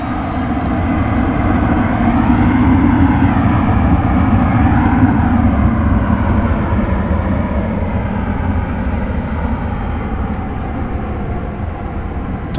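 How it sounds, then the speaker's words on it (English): A Boeing 767 airliner taking off from Dallas Fort Worth airport at night, a loud, steady engine roar that swells slightly and then holds, heard from a distance with no talking. "Time for the 767 to take off for Ontario in California."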